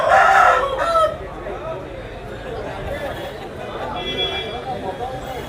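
At a village native-chicken market in Vizianagaram district, a rooster crows loudly up close at the start, then fades into a background of crowd chatter and scattered clucks as people talk nearby.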